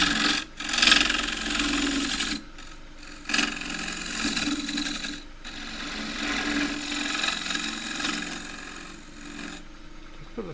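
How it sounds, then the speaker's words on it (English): A big bowl scraper cuts warped, rough-turned pear wood spinning on a lathe, a close continuous rasping scrape that swells and fades with short breaks between passes. "So this is my big bowl gouge, bowl scrape rather."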